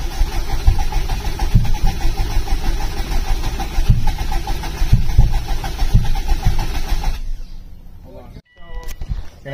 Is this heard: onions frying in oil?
no